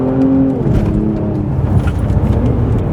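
A Kia Stinger GT's engine is heard from inside the car, a steady, loud low-pitched drone that rises slightly in pitch early on and then holds a rumbling tone, with no talking.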